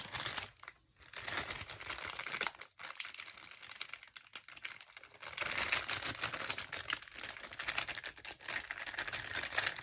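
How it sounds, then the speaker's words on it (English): Plastic packaging holding small sewing pins crinkles close by in a continuous dry rustle, with a few brief pauses and no talking. "Excuse the crinkling."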